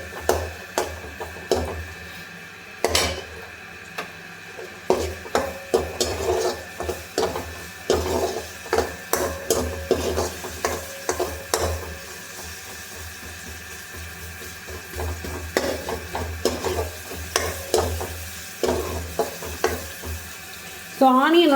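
Onions for a creamy red pasta sauce fry and sizzle in a pan, with a spoon stirring and scraping in repeated bursts throughout, close and moderately loud, with occasional clinks and faint background noise.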